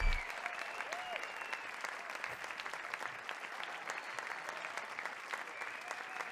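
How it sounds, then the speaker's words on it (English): Steady applause from a game show audience fills the whole stretch, a dense patter of many hands clapping at even loudness, with faint voices mixed in. "please stop clapping for him"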